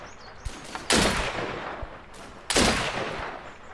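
Two heavy .50 caliber sniper rifle shots in the video game Deadside, each a sharp loud crack with a long rolling tail, spaced about one and a half seconds apart, with faint clicks and handling noise between them.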